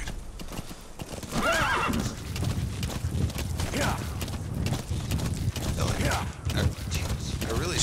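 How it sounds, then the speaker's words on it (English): Rhythmic hoofbeats of a galloping horse with repeated whinnies in the video game Metal Gear Solid V: The Phantom Pain, over a steady game background, loud and close. "Let's go on a horse ride."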